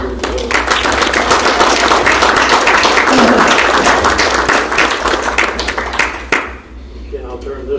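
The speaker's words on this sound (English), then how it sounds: "please give Richard Venable a big round of applause" An audience at a historical society talk applauds a speaker, dense sustained clapping that fills the room before tapering off to a few scattered claps.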